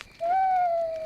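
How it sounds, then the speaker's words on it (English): A cartoon owl gives one drawn-out, wavering hoot that slides slightly downward and holds steady for about a second, clear and close against a quiet background. "It's an owl."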